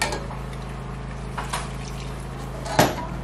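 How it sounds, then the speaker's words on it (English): Water poured into a pot of Nigerian egusi soup during home cooking, with a brief louder splash near the end over a steady background hum. "I want to add a little bit of water."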